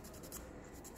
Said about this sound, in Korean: 지겹게 사포질을 하고